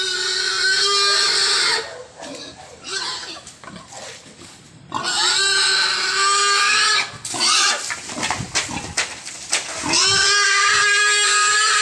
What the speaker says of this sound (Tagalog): Nagwawala talaga si ating Mama Pig